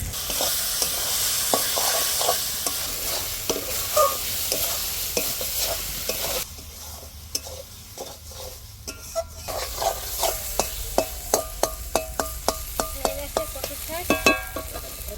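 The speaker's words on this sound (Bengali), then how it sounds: "এবারে পুরা নারকেলটা ভাজা" Steady scraping and stirring of grated coconut frying in a hot pan, with a continuous sizzle and repeated clinks of a spatula against metal, close up.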